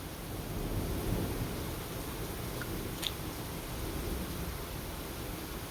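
A thunderstorm with steady rain gives a continuous broad hiss, faint and enveloping, with a brief brighter crackle near the middle and no voices.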